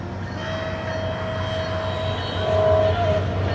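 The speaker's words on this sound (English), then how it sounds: "There it goes, Sunrail. What type of horn is that?" A SunRail commuter train passes, its horn sounding as a steady sustained tone over a low rumble of rolling wagons, rising slightly louder near the end, heard from close by without speech.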